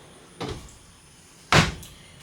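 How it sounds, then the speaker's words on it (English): Cabinet door under the stove in a 2023 East to West Alta LE 1600 MRB travel trailer, with two close knocks and thumps about a second apart, the second louder, in a quiet room. "We have a small door underneath the stove, and it's pretty deep."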